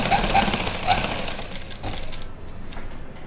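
Sewing machine stitching a dart into a suit, a fast, steady mechanical chatter close to the microphone that runs for about a second and a half before quieting to faint background hum.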